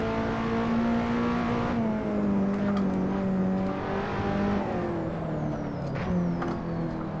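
A race car engine in the Assetto Corsa video game hums steadily and winds slowly down in pitch as the revs fall, loud and continuous throughout.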